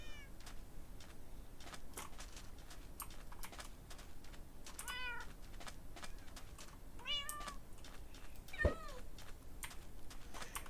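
Several cats meow in a video game, with quavering cries at intervals over steady computer keyboard typing. Quiet overall, with a sharp click near the end.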